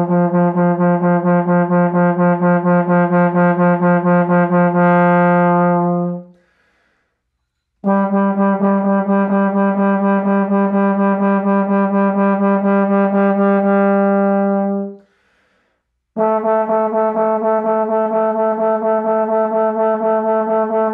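Trombone practicing slow double tonguing, three long sustained runs of rapidly articulated repeated notes, each stopping before a short gap; close and loud, with no talking.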